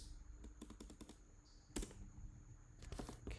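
Computer keyboard typing to rename a folder during a Drupal module setup: bursts of quick, close key clicks in short runs with pauses between, a louder cluster near the middle and another toward the end, no talking.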